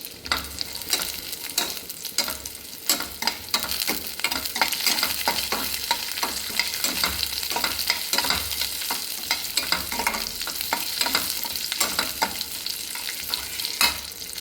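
Food frying in oil in a pan, a continuous crackling sizzle with frequent sharp pops and spatters, close and steady throughout with no talking.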